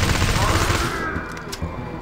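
A burst of rapid SMG gunfire in the shooter game Project Lumoria, dense and loud for about a second, then trailing off into echoing tail and scattered faint shots.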